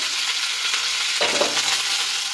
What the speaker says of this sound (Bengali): তেলটা আমার গরম হয়ে গেছে, তেলের মধ্যে দিয়ে দিলাম সর্ষে